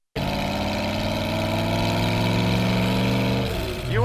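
A 1932 Ford street rod with a stroker engine runs at a steady, loud, close idle, then its pitch shifts as the engine revs briefly near the end.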